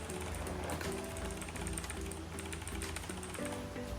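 Keys on a budget Leaven mechanical keyboard clack in quick, quiet bursts of separate presses, close up and faint, continuing for a few seconds.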